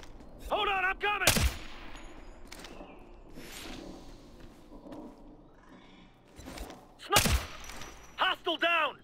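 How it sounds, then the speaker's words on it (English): Heavy gunfire from the shooter game Ghost Recon Future Soldier, heard as loud bursts of rifle fire with sharp cracks near the start and end, mixed with shouted voices and combat noise. "Taking heavy fire!"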